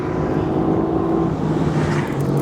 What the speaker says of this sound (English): Longitudinal G-forces come courtesy of a 4-liter twin-turbo V8 that puts out 456 horsepower in the GT